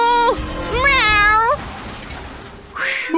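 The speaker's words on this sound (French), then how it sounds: "Miaou!" A cat meows loudly and close by, several drawn-out, pitch-bending cries in succession. A shorter, higher mew comes at the end.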